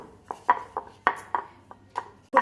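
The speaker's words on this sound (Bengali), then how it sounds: "এটাকে আমি এবার বেলে নেব।" Paratha dough being rolled out with a rolling pin: a series of sharp, irregular knocks and taps of the pin against the board, close and clear, spaced a few tenths of a second apart with quiet gaps.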